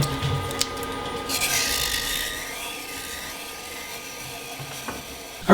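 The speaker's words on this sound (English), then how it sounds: "I'm going to run through all the grits and then put polish on the inside of it" Sandpaper held against a wooden lidded box spinning on a woodturning lathe, a steady whirring hiss and rubbing that swells and fades, ending with a brief louder knock.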